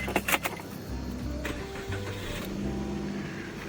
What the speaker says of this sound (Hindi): मैंने कहा थोड़ा गाड़ी स्टार्ट भी करके आते हैं।